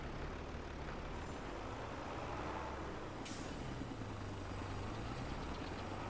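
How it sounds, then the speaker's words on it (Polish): A tractor crawling slowly across a field in the video game Farming Simulator 22, a faint steady engine drone with a low hum that shifts slightly in pitch, no voices. "A co ten ciągnik tak powoli jedzie tutaj tylko 3 na godzinę"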